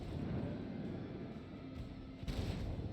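Torpedo explosions in a Warhammer 40,000: Rogue Trader space battle form a dense, continuous barrage of low booms and crackling bursts, with a heavier surge near the end.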